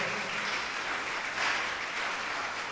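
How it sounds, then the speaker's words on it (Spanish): Church congregation applauding at the close of a Spanish-language sermon: a sustained wash of clapping at moderate level, even and continuous with no voice over it. "Démosle un fuerte aplauso"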